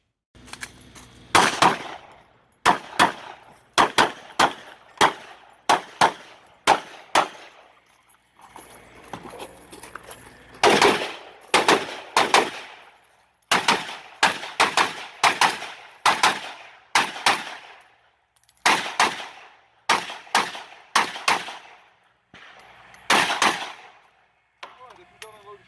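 Rapid bursts of sharp rifle shots from a Zastava M90 firing PMC X-Tac 55 grain ammunition at a 2-gun match stage, single and paired cracks in quick strings with brief pauses between, loud and close.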